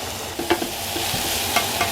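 Ground beef sizzles on a hot Blackstone griddle at medium-high heat, a steady close crackling hiss with a few sharper pops and scrapes.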